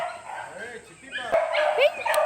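A native-breed puppy gives several short, high yips and barks close by, while people talk over and around them.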